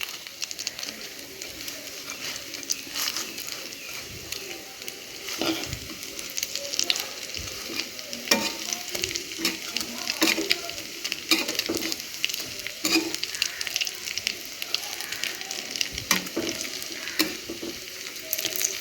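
Carrot and onion fritters fry in a pan with a steady crackling sizzle and intermittent stirring scrapes, moderately close and continuous, with faint background birds.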